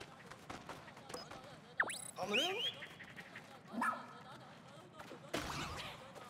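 A dog in the Pikmin 4 video game gives short yips and whimpers among game sound effects, fairly faint, with talking over parts of it.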